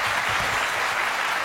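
An audience at an entrepreneurs' summit applauds, a dense, loud, continuous wash of clapping from a full room, heard briefly and alone.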